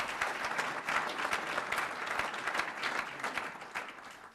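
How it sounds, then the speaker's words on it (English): Audience applause at a city's State of the City address, a steady dense round of clapping from a large crowd, sustained at even volume throughout with no speech over it. "a round of applause for them,"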